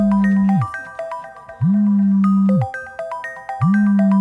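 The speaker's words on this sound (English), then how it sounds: "Alex's phone buzzed in his pocket." A mobile phone vibrates in a pocket, giving three evenly spaced one-second buzzes, each with bright chiming ringtone notes over it, close and clear with no talking.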